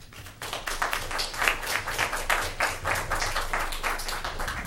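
Applause from the audience at a city council meeting: many hands clapping in quick, uneven patters, heard at a moderate distance in the chamber. It stays steady for several seconds with no voices on top.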